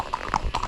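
Horse hooves clip-clop on a private plantation trail at Rajappara, a few quick uneven steps close by, fairly soft, with faint background noise.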